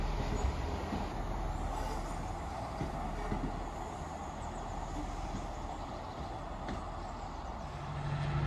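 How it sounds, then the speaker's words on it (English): A freight train passes on the Chiltern main line between Leamington Spa and Lapworth, a steady rumbling roll of wagons heard from trackside at moderate distance, continuous throughout. "Right, here we have another freight train."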